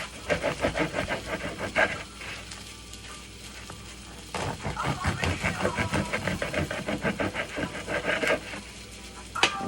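A sharp knife sawing through a thick loaf of bread for bruschetta: close, rhythmic back-and-forth rasping strokes in two bursts separated by a quieter pause.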